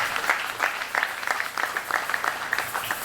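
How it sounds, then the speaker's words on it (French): A church congregation at a Sunday service claps in a quick, fairly even rhythm, with crisp hand claps sounding moderately close over a low background of the room. "Est-ce que tu peux acclamer?"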